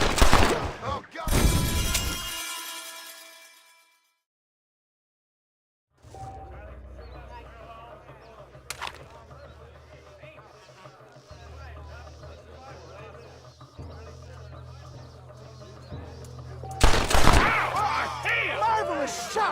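Gunfire in the Western video game Red Dead Redemption on PC: a loud rapid volley opens, then a lull, scattered single shots over a murmuring game soundscape with voices, and a final close burst of several shots.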